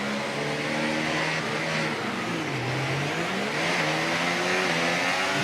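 In the F1 24 game, a Formula 1 car's engine snarls loudly at the race start, with revs bogging down and rising again as gears shift amid other cars roaring close by.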